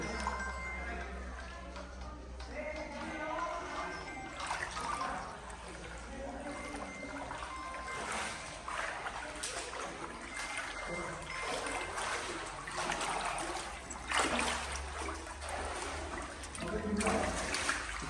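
Water flows steadily through an underground Shiva temple of the Vijayanagara era, a continuous trickling rush that fills the whole stretch with faint surges and no clear break.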